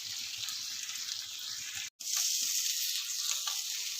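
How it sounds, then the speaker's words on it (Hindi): Chicken for shawarma fries in an open pan with a steady, bright sizzling hiss. The sound cuts out for an instant partway through, then returns just as strong. "अब इसे ओपन ही हम लोग 3 से 4 मिनट के लिए फ्राई करेंगे"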